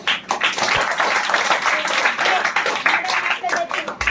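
Audience clapping at a village gathering, honoring a woman from the Latur panel: a steady, dense round of applause that holds for several seconds, with scattered louder claps standing out.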